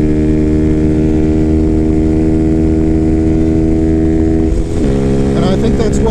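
A 2024 Freedom Fighter 200 EFI motorcycle cruising on a highway in 6th gear, its engine holding a loud, steady drone throughout with a slight shift in pitch near the end.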